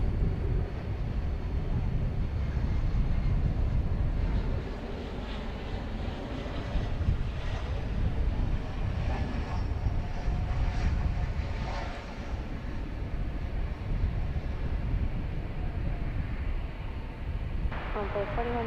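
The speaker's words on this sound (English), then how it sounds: "Here goes American Flight 2071 off to Querétaro in Mexico. This is a 737-800." American Airlines Boeing 737-800 taking off at night at DFW Airport, a broad continuous roar heard from a distance, steady and fairly loud with wind buffeting and no talk.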